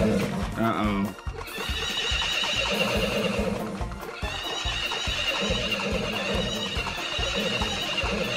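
Horse neighing and whinnying during a horse race in the farming game Story of Seasons: Friends of Mineral Town, with hoofbeat clip-clop, loud and continuous over busy race music and game sounds.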